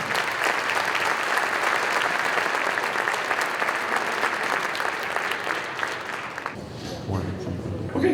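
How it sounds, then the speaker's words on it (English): An audience applauds loudly for the RMHS Symphonic at a school arts festival, a dense sustained wash of clapping that cuts off near the end, leaving quieter room sound. "One more round of applause for the RMHS Symphonic."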